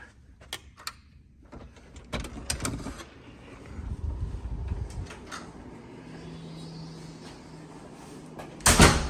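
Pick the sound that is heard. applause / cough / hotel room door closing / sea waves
hotel room door closing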